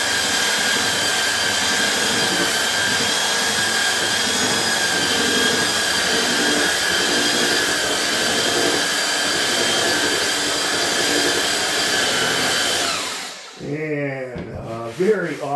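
Power sander running steadily on a plywood countertop, a loud continuous abrasive whir lasting most of the stretch before cutting off, followed by a brief spoken remark.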